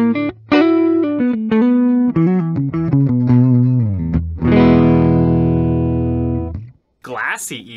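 A 1982 Gibson Les Paul Artisan electric guitar on its clean neck pickup plays a run of bright single notes and chords, then lets one full chord ring out and decay, with a short rise of noise at the end.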